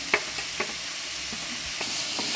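Chopped tomato hits hot oil in a pan for vegetable pulao, giving a steady close sizzle with a few sharp stirring scrapes and taps over the hiss. No one speaks.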